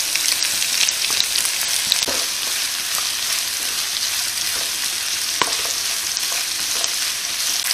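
Chopped onion, green chilli and a small tomato fry for an egg roast, with a loud continuous sizzle and scraping stirring strokes throughout and no talking.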